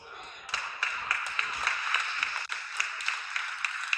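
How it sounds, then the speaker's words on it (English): A single person claps loudly in a room, sharp hand claps repeating in an uneven rhythm over a quieter background of scattered applause. "One really loud guy clapping there."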